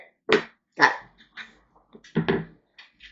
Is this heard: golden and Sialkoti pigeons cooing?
no